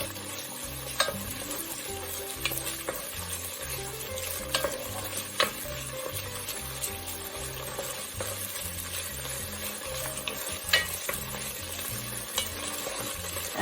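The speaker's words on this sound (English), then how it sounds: "We need to get that fried off in with our onions. So give that a stir." Fresh ginger frying with onions in a pan for chicken curry, a soft steady sizzle with the occasional scrape and tap of a spoon stirring, under quiet background music.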